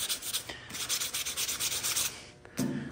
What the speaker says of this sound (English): We're going to come in here and lightly wet sand this.